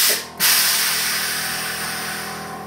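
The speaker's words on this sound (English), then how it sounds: "Compressor will kick on." Air suspension compressor on a 1953 Chevy kicks on with a short thump, then settles into a steady, loud hissing whir that runs continuously close by.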